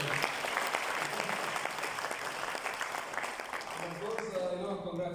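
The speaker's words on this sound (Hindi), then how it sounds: "तो आप सभी के लिए एक जोरदार तालियां दो।" Audience clapping at a DXN business gathering, a full round of applause from a crowd that fades toward the end as a voice begins speaking over it.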